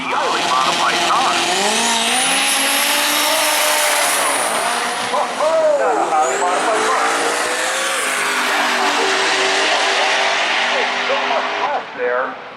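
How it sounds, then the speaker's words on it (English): Highly modified Silverback race car with an import-style four-valve V8 on radial tires at a drag race event at Maryland International Raceway, roaring loudly and continuously with rising and falling engine pitch and streaks of tire squeal. "So a little bit of radial tire action going to be coming at you here with Eric Jarvis in the Silverback, the highly modified car"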